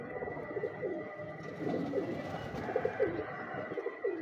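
Pigeons coo softly in short repeated low phrases, fairly close, over a faint steady background hum, with no talking.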